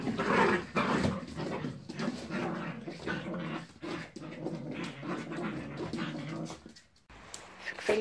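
A large dog whimpers, pants and gives low growls close by in a lively, continuous stretch of rough breathy sounds, with no one speaking over it.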